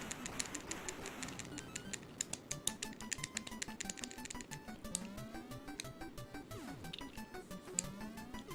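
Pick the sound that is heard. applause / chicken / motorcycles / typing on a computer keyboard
typing on a computer keyboard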